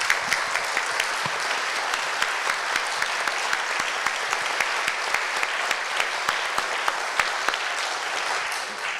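Sustained applause from an audience at a Church of England General Synod session, thanking departing staff; dense, even clapping filling the whole stretch with no voices on top.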